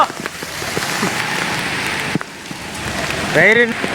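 Heavy rain pours down in Junagadh, a dense continuous roar of drops hitting surfaces, with a brief rising tonal sound near the end.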